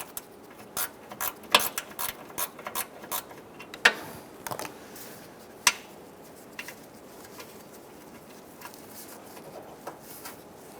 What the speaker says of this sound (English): use a gear wrench with a swivel head